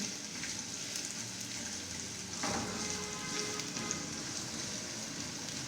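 Finely chopped medium onion frying in a pan as a chicken sandwich filling, a steady close sizzle throughout that swells louder partway through, with no talking.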